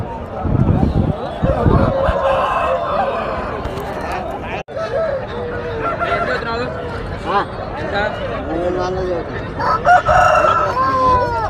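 Roosters crowing and hens clucking at a busy Friday poultry market in Nallapadu, several calls rising over constant crowd chatter and someone talking nearby.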